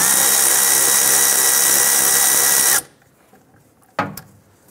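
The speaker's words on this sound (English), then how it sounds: "Using a 7mm socket, loosen that clamp" A power tool runs loudly and steadily while loosening the fuel filler tube clamp with a 7mm socket on a 2002-2008 Dodge Ram 1500, then stops abruptly, followed by a short sharp knock.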